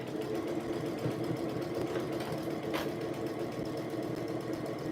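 A sewing machine stitching through a large, thick bundle of fabric for a tee, heard as a continuous, steady rapid whirr and clatter at close range with no pauses.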